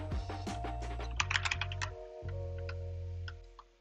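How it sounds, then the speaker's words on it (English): Command being typed on a computer keyboard, a rapid run of light key clicks with a few sharper taps, close and alone over a steady low hum. "For that, we'll type in conda config"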